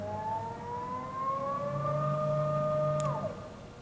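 Servo axis motion on a Tru Tech TT-8000 CNC centerless profile grinder, a steady rising whine that holds a sustained tone, then sweeps down as the axis stops, with a low hum beneath and no talk.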